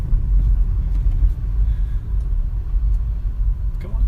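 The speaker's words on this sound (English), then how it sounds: "Oh, don't you just love bin lorries?" Low rumbling drone of a bin lorry passing on the road during a daily commute, a heavy steady engine roar close by with faint higher clatter over it, no talking.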